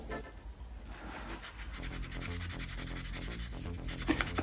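A pocketknife is scrubbed with scouring cream, giving a continuous rubbing and scratching sound of brisk back-and-forth strokes, close and fairly loud, with no talking.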